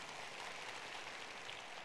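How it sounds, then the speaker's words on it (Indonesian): An audience at a motivational talk gives steady applause, a dense even patter of clapping that fills the space without pause and is not loud. "Tepuk tangan buat Anda semuanya."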